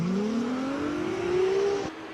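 A Ferrari race car pulls away at a hill climb during a Cape Town speed event: a single engine note rises steadily in pitch as it accelerates for nearly two seconds, then cuts off abruptly as it shifts or moves away.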